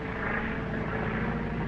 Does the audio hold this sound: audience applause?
no